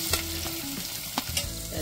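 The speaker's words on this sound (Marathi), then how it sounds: "आता कांदा टाकतो ह्याच्यात." Onion dropped into a hot pan with fried ginger and garlic for prawn pulao sizzles steadily up close, with a few sharp clinks of a spoon stirring and scraping, no voices.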